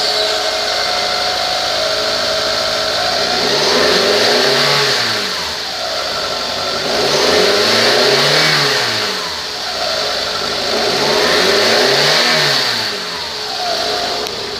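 A 2011 Mitsubishi Galant engine with 162,337 miles runs close up, idling with three smooth rev rises and falls over a steady hum, no talking.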